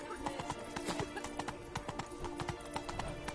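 Hooves of the horse Roach clip-clop at a steady trot in The Witcher video game, with a neigh and faint background voices.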